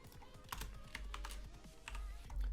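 Keys clatter on a computer keyboard in quick irregular bursts, close and fairly quiet, with no talking.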